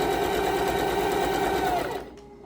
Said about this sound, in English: and then just turning it and sewing down this end